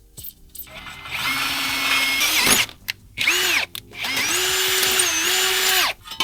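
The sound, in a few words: power drill drilling holes for ATV bracket mounts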